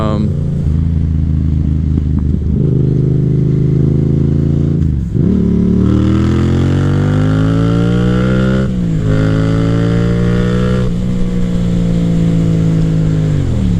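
A Yamaha FZ07 motorcycle engine on the move, loud and close, with a steady drone that rises in pitch through several gear changes. A rider talks over it.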